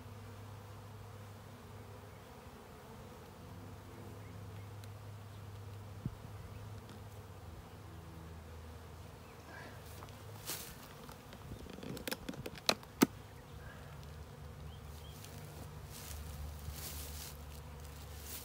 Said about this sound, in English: when you see bees kind of balled up in an area